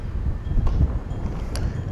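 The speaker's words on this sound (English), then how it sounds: "I want to apologize for the wind." Wind blows into the microphone outdoors beside a 2024 Harley-Davidson Road Glide, a low, rumbling buffeting that rises and falls in gusts with faint rustling, no talk.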